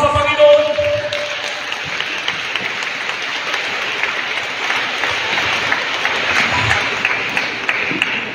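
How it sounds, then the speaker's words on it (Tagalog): A church congregation breaks into sustained applause during a sermon, a dense wash of clapping that holds steady throughout after a brief opening tone. "Palakpak sa Panginoon."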